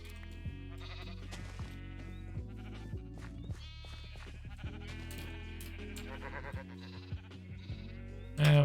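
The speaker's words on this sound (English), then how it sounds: "We got sheep for fucking years out here." Minecraft sheep in a survival game bleat repeatedly, overlapping wavering baas rising and falling over a constant low drone, with a louder burst right at the end.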